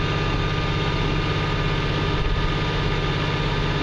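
A CAT D6N bulldozer engine runs with a steady heavy rumble and a slight hunting waver in speed, close and continuous with no talk.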